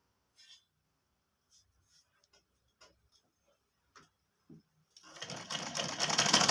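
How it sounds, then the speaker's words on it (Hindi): Soft, scattered ticks and clicks from a sewing machine being positioned on a kurti trouser pocket, followed by the motor starting up and stitching loudly and steadily for the last second and a half. "ये देखिए पॉकेट का दूसरा छोर इस तरह से लेंगे और इस पर सिलाई लगा देंगे।"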